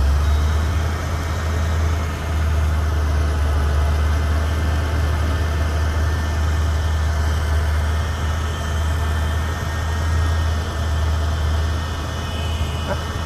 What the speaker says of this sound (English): You'll hear the car rev up